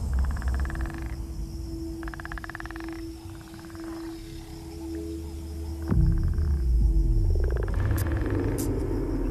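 Deep, resonant bullfrog croaks repeat in steady pulses against a low rumbling background, with a sustained hum and louder bursts toward the end.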